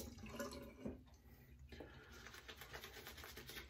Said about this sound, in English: Trying to add a little more water to this lather here.